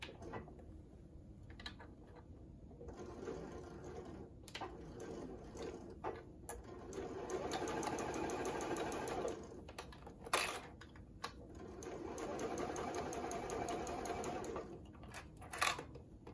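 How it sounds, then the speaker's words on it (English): A sewing machine stitches a quarter-inch seam allowance for a kickstand, a quiet whirring run that rises and falls in several bursts, with a few sharp clicks and handling knocks between passes. "And you just sew it all the way down."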